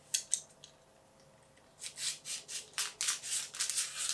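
Scissors snip open a bag of thin-set mortar while a bathroom floor is being tiled: a couple of sharp cuts, a pause, then a quick run of close, crisp snips and rustles.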